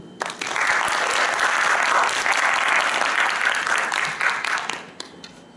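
An audience at a university public administration department's mock cabinet meeting performance applauds in a hall with loud, sustained clapping that swells briefly and then tapers off.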